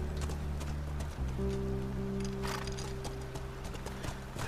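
Horse hooves clip-clop steadily in The Last of Us game, mid-distance over a soft rain-like hiss, with low sustained tones from the game's score running beneath.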